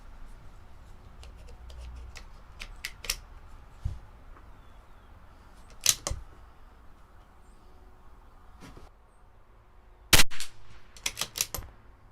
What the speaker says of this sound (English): now we're going to shoot our first 5 shot group